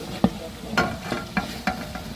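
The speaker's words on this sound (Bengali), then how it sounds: "এখানে দেখেন মশলা কষানো হচ্ছে।" Spices being stirred and fried in a pot for a beef dish at a large outdoor cooking gathering, with a soft sizzle under several spaced scraping strokes of a spoon, fairly close and without talk.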